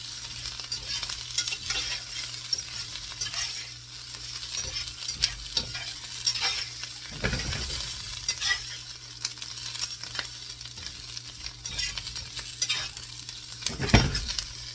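Onions and potatoes fry in a pan over medium heat for an omelette, giving a continuous close sizzle with scattered pops and two brief scraping stirs about halfway through and near the end. No one speaks.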